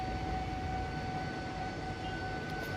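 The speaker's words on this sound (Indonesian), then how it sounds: "Kereta melintas di depan perjalanan kita." A train rumbles past close by at a crossing in Jakarta, a loud steady roar of wheels and engine with a faint sustained whine on top. No one speaks.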